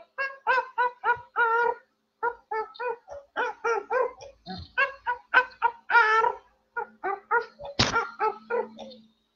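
A voice sings a children's song about a squashed little pig entirely in imitation dog barks, a rapid series of short, clipped bow-wow yelps in rhythmic phrases, loud and close, ending with a sharp higher yelp.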